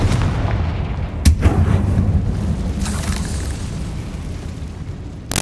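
Confringo fire spell exploding in Hogwarts Legacy, a loud booming blast with a sharp onset and rumbling low tail, followed by a second sharp hit at the end, no talk.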